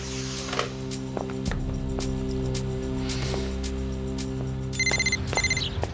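A telephone rings in a quiet indoor room, its bright repeating electronic tone arriving in short bursts late in the moment over a steady low hum, with no talking.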